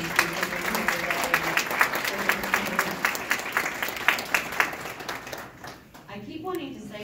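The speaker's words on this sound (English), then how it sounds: "Can we give them a round of applause and say thank you for being here today?" Town hall audience applauding a color guard: dense, steady clapping with some individual claps standing out, tapering off near the end as the crowd quiets.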